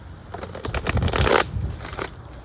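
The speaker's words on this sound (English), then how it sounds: "whether I riffle shuffle them and they don't like it, or I overhand shuffle them and they're leaping out of my hands" Tarot cards from an indie Ostara deck, a chipped 2015 edition, being shuffled by hand: a close, continuous papery riffling and flicking that swells in the middle and fades out, with no talking.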